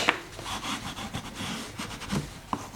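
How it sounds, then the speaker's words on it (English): Paper being burnished in place while making a mini accordion book: close, soft rubbing strokes of uneven rhythm with a few small taps and clicks. "now we want to burnish"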